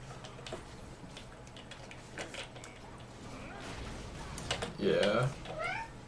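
A pet cat meowing near the end, two or three close, rising meows after quieter room sounds and background talk.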